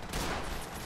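Gunfire bursts out in the post-apocalyptic video game Magnum Opus, a dense, sustained volley of rapid shots that fills the whole moment loudly with no pause.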